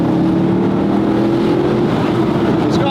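A 580-horsepower naturally aspirated car engine drones loudly and steadily throughout, a sustained high-revving tone that holds close and continuous, with faint voices underneath.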